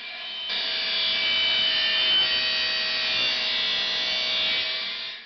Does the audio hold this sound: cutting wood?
yes